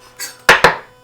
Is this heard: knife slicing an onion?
yes